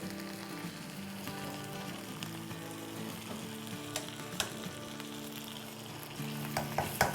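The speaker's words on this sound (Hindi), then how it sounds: "अब हम एक मर्तबा और इसको पलटेंगे।" Chicken pieces for kabsa rice being flipped in a hot pan, a continuous low sizzle with scattered pops and clinks, growing a little busier toward the end, with no voices.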